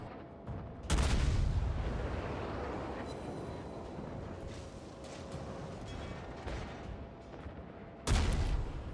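Warship guns fire in the naval combat game World of Warships, with two heavy booming salvos some seven seconds apart over a continuous rumble of engine and sea noise.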